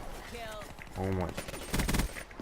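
A PPSh submachine gun firing in Black Ops 3: short rapid bursts of gunfire, moderately loud, mixed with a voice talking between and over the shots.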